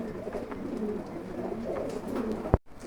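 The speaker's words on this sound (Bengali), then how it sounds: "এখানে আর এক পেয়ার কবুতর আছে" A pair of pigeons at a farm coos in a soft, continuous murmuring rumble close by, ending with a sudden sharp knock before silence.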